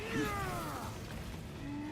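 A cat meows outside a door, a faint drawn-out cry with a rising-then-falling tone near the start, heard at a distance under low background noise.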